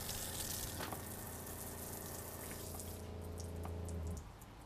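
Water runs steadily from a tap fed by a pump, a continuous close splashing rush with a low pump hum beneath that stops near the end.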